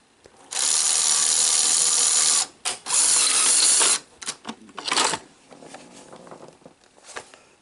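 A Sony SL-HF600 Betamax VCR ejects its cassette: loud, close mechanical whirring in a long burst and a second shorter one, followed by smaller clicks and clunks as the mechanism settles.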